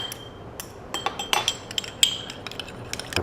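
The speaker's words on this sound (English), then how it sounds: "and then give that a mix up." A spoon stirs mayonnaise with a squeeze of lemon in a bowl, giving light, irregular clinks and taps against the bowl over a quiet background, with no talking.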